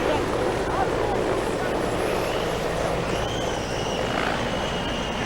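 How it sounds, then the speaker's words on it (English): A helicopter comes down to land right beside a rugby field where spectators are seated, its steady rotor and engine roar filling the air as a loud, unbroken wash of noise. "There's yet another chopper coming down here, and it's coming down pretty damn close to the people who are sitting there."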